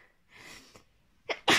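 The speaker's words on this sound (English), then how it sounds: "I'm going to sneeze." A single sneeze, preceded by a quick sharp intake of breath, close and loud at the end after a softer breathy buildup.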